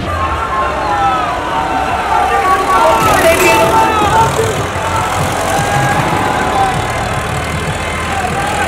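Tractor engines rumble steadily in a farmers' tractor parade on Republic Day, a loud, continuous mix of idling and running motors with crowd noise and voices underneath.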